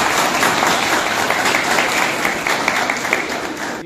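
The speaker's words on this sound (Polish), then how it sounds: "Wielkie brawa dla was." A crowd applauds firefighters at a municipal Firefighters' Day ceremony in Łózki, Poland, with loud, dense, continuous clapping holding steady throughout.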